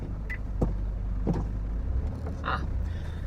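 A car reversing out makes a low, steady rumble. A few short squeaks and light knocks sit on top.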